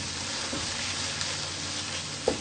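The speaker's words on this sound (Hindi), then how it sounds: "इसको हम बहुत ही अच्छे तरीके से 5 से 10 मिनट मजीद इसको भूनेंगे।" Potatoes and bathua greens fry in a pan with a continuous close hiss of sizzling oil and a faint stir or knock near the end.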